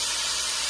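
Vegetables with red chili sauce sauté in a hot pan for street-style veg chowmein, giving a brief, close, steady sizzling hiss.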